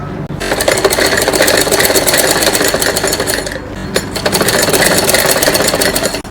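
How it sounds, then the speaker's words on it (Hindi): A sewing machine stitches fabric for a child's night suit, a loud, close, fast rhythmic clatter running continuously with one short pause midway before resuming. "इस प्रकार से दोनों को पकड़ेंगे और इस पर सिलाई लगा देंगे।"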